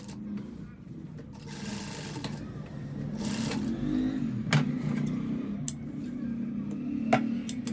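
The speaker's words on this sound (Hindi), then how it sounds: "बैक में पलट के एक पॉकेट के साथ साथ एक सिलाई लगाएंगे पक्की करने के लिए यहाँ पर" A sewing machine runs a reinforcing seam alongside the pocket of full-elastic trousers, a steady low motor hum with faint ticking and brief clicks throughout, with light background noise.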